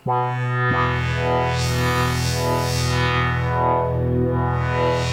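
A sustained, gritty Plinky synthesizer tone with heavy distortion and resonance drones steadily, thick with buzzing harmonics and a slowly shifting resonant sweep.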